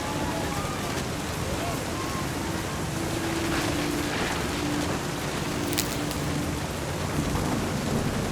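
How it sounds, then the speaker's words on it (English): Heavy rain pours steadily through a thunderstorm in the game What Remains of Edith Finch, with rolling rumbles of thunder beneath a dense hiss of falling water and a faint voice in the background. "The thunder sounded much too close and full of angry power"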